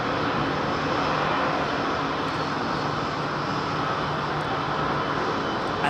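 A former Japan Airlines passenger jet, now converted to a freighter, roars steadily at Heathrow. Its broad, even jet noise is continuous and fairly distant.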